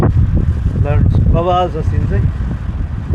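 Strong wind at Hong Kong International Airport's aircraft maintenance area buffets the microphone with a loud, continuous low rumble, while someone speaks over it.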